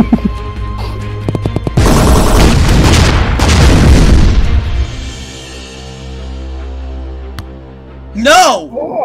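Tank cannon blasts in a video game, heavy booming shots with long rumbling decay, layered under excited talk and laughter from players.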